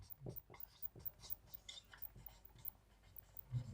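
Numbers are written on a board during a maths lesson, with soft, intermittent scratching and tapping strokes that sit faint and close under a man's speech.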